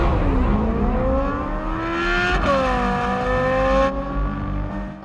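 A Corvette C8 with a flat-plane crank V8 revs hard, its pitch climbing smoothly, then dropping sharply and rising again. The engine sounds close and loud, with no talking.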